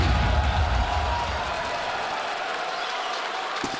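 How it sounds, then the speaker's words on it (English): Roaring crowd at the Counter-Strike major grand final between FaZe and Vitality in Budapest, a steady dense wall of cheering and applause lasting throughout, loudest at the start, with a commentator's voice faintly mixed in. "Crowd going crazy."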